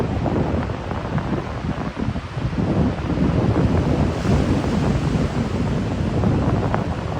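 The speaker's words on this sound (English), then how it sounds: "You can just keep on watching the ocean as the tide rolls in right there." Ocean waves roll in along the Oregon coast, a loud continuous roar of surf buffeted by strong wind noise on the microphone, with no voices.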